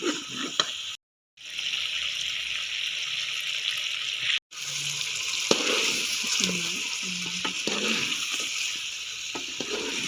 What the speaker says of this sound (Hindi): अब हम इसमें थोड़ा सा पानी ऐड करेंगे और फिर इसको मज़ीद भूनेंगे पानी डाल के